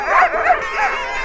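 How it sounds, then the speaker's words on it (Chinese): Sled dogs in Greenland bark, yip and whimper as they squabble, loud and close, with several overlapping voices. "小狗们有话说。 小狗们在吵架。"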